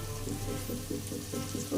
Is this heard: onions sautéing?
yes